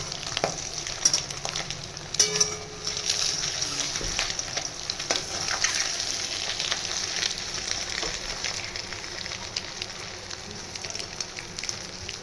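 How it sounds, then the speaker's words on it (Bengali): Eggs fry in a pan, turned to cook the second side, giving a steady close crackling sizzle with scattered pops and occasional scrapes of a spatula, with no talking. "এক পাশটা ভালো করে ভাজা হয়ে গেছে এবার আমি এ পাশটাও ভালো করে ভেজে নেবো"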